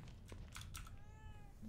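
A cat meowing in the horror game The Evil Within 2, one drawn-out, fairly faint meow rising over a low ambient background, with no talk.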